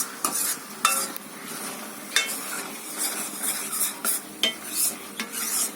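Water apple jam cooking in a pan is stirred in a quick, irregular rhythm of scraping utensil strokes against the pan over a soft simmer.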